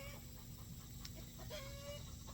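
Hen clucking after laying an egg in a homestead chicken pen, soft broken clucks with a rising squawk near the end, heard close over steady low farmyard rumble.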